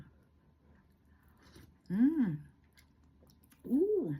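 Someone eats leftover beef and egg sinigang, a sour Filipino soup, at lunch. Two separate loud, wet sips or slurps stand out above quiet background eating noise.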